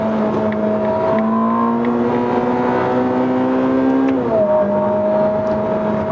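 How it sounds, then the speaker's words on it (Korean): A loud Ferrari hybrid turbo sports car engine holds a steady drone, then revs up and shifts down through its 8-speed transmission, with a throaty intake hum running throughout. "공기 흡입되는 소리도 되게 좋고요"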